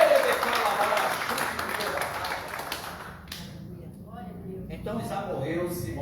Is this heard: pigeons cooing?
no